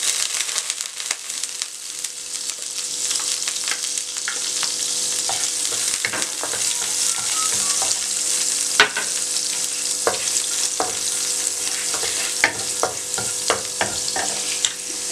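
Chopped garlic sizzles in melted butter in a pan while being stirred, a continuous close hiss broken by frequent scraping clicks of the spoon, with no talking.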